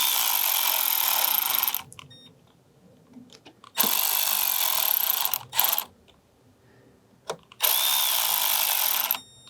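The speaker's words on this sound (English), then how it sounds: "I'm just going to spin these down real gentle." A power tool spinning bolts down on a 2012-2015 VW Passat TDI B7 fuel filter housing, three loud whirring bursts of about two seconds each separated by quiet gaps with small clicks and handling noises.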